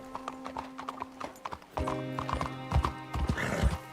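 Horse hooves clip-clop at a rapid gallop in the Red Dead Redemption 2 video game, a rhythmic close pounding that grows heavier, with a whinny-like tonal cry running through it.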